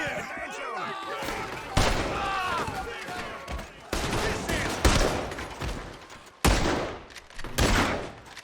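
Rapid, loud bursts of gunfire in the Western video game Red Dead Redemption 2, several separate volleys with echoing shots, and voices shouting between them.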